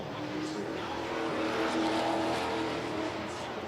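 Super Trucks racing around an oval track in a heat race, a dense, steady roar of multiple engines blended with crowd ambience at a distance, no clear talk over it.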